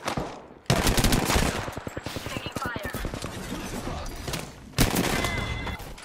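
Rapid gunfire bursts from the video game Apex Legends during a ranked match, loud and dense, with rhythmic automatic fire dominating and players talking over it.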